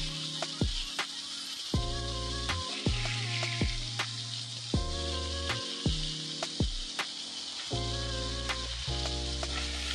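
Poa fish frying in a pan over medium heat for a cauliflower curry, a steady close sizzle with crackling and repeated clinks and scrapes of stirring, no voices.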